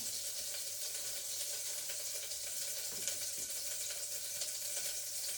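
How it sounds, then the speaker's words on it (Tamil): Butter melts in a pan on a stove, giving a soft, steady sizzle that stays faint and even with no talking. "இப்போ நான் இந்த பட்டரை இதுக்குள்ளே போட போகிறேன். போட்டுட்டு பட்டர் உருகட்டும்"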